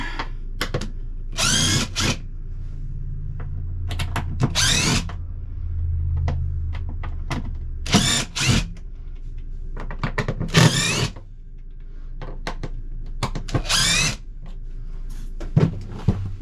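A power drill or impact gun backs bolts out of an RV toilet during a swap to a Nature's Head composting toilet, sounding in repeated loud whirring bursts separated by short pauses, close to the listener.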